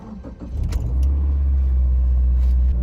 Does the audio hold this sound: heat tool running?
no